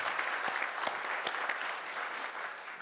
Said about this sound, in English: So can we have another round of applause for these guys?